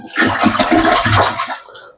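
Filtered water pours steadily into a container for a little under two seconds, a loud, dense gushing splash that fades out at the end, with no talking.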